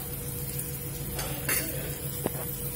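A homemade spice mix fries in a pan under a steady sizzle, with metal spoon scrapes and an occasional clink against the pan as it is stirred.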